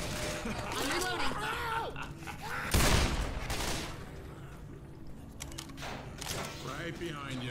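Gunfire from the zombie shooter game Left 4 Dead, No Mercy campaign, crackles in rapid bursts at close range under excited talk between players, with a louder burst near the middle.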